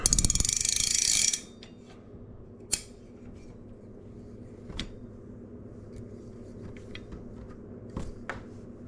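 A Pflueger trolling reel's ratchet sounds as fishing line is spooled on: a loud, close, buzzing burst of rapid clicks for just over a second, then a quiet stretch with only a few sparse, sharp clicks.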